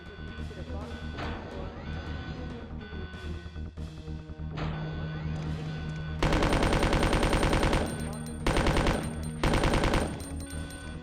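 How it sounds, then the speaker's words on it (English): Rapid machine-gun fire rattles in the Resident Evil 2 video game, tight repeated bursts that cut in and out over the last few seconds, loud and close, after a stretch of game noise and faint talk. "maybe now I get to use the machine gun to kill zombies"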